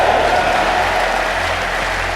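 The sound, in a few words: congregation clapping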